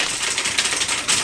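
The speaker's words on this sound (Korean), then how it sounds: "키보드 소리 어때요?" Fingers rattle quickly across a HyperX gaming keyboard, a dense, close run of rapid clicky keystrokes heard alone.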